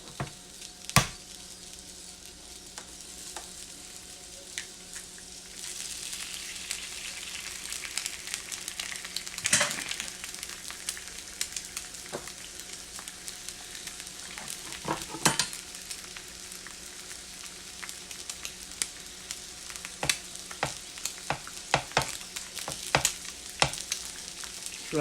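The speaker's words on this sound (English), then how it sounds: "But his egg is going on." An egg frying in a pan for a simple sandwich, sizzling steadily for the whole stretch, with scattered clicks, taps and spatula scrapes over the crackle.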